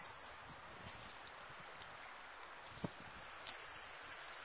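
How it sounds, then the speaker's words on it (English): A swift but shallow mountain river in Glacier National Park rushes steadily along, a continuous broadband wash of flowing water with no voices and only a couple of brief small splashes or knocks. "The river is pretty swift"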